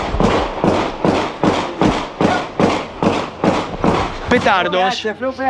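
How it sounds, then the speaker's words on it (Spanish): A rapid, steady string of sharp firecracker pops, about two or three bursts per second, loud and close, followed by a few seconds of talking. "Son petardos, ¿no, señora? Son petardos, son petardos."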